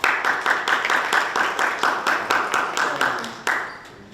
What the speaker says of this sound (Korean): 감사의 박수 한번.